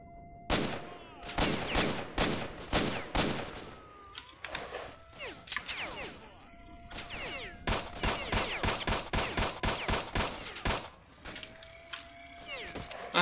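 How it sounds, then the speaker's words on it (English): Video game gunfire and grenade blasts from STALKER: Shadow of Chernobyl at an army base, with rapid bursts of sharp shots in dense clusters and heavier crashing hits, repeated across the stretch with brief gaps. "Let's throw a grenade at the bastard."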